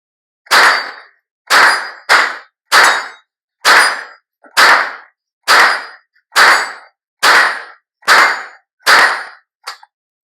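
Eleven sharp metallic rings from .22 rifle rounds striking steel targets downrange, spaced roughly evenly about a second apart, each shot ending in a bright clang that decays quickly; loud and clear with no talking.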